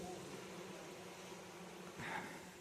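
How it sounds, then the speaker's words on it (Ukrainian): Honey bees that have left an old log hive, unopened for five years, buzz outside it in a faint, steady, diffuse hum, with a slightly brighter swell near the end. "бджол попросив, вони вийшли з вулика, ось все сидять"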